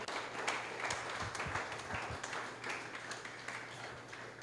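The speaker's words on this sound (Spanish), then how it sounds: "Dale un aplauso al Señor." Church congregation applauding during a Spanish-language sermon, a moderate, fairly quiet patter of clapping with a few sharper claps standing out, lasting about four seconds under a low steady hum.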